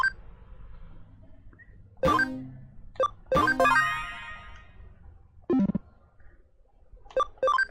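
Electronic phone tones in Digimon Story: Cyber Sleuth: a few bright, ringing beep bursts, separated by quiet gaps, with a quick cluster of tones near the end.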